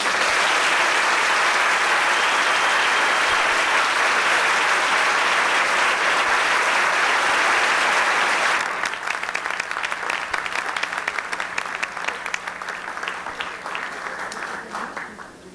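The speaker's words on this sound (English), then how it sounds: "I would like to have you give them a round of applause" An indoor audience applauds a state championship basketball team from 1990, a dense loud wash of clapping that holds steady for several seconds and then thins into scattered, fading claps.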